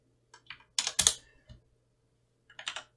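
Short bursts of typing on a computer keyboard as Linux commands are entered, close and crisp: a few soft taps, a quick cluster of keystrokes, a pause, then another brief flurry.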